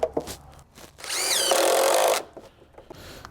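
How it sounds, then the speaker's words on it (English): An impact driver sinks an SDS screw into a wooden rim band, a loud whirring, rattling burst of about a second after a few faint knocks, then quiet handling noise. "using my SDS screws and an impact driver against the rim band"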